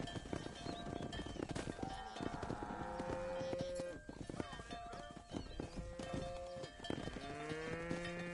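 A cattle herd in the Red Dead Redemption game, several cows lowing repeatedly in long drawn-out moos over busy hoof clip-clop and horse sounds, with a voice speaking at points.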